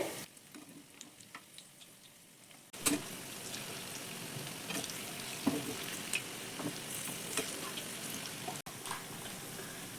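Pakoras crackle and sizzle steadily as they fry in a pan of oil, a close, busy bubbling with a few sharp pops and a sudden jump in loudness as they are turned.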